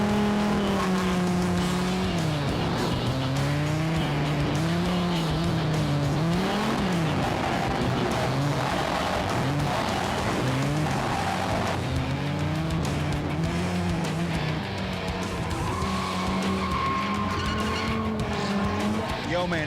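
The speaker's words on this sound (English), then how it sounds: "he got to sit shotgun, sliding sideways with professional drifter Tarzan" Professional drifter Tarzan slides a car sideways at a Formula Drift event in Houston, its engine wailing and revving in rising and falling sweeps alongside tire squeal, loud and continuous throughout with crowd or announcer noise faintly underneath.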